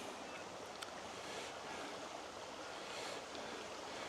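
A creek runs past a secluded tarp-tent campsite, a steady broadband rush of flowing water holding even and continuous throughout, with no voices over it.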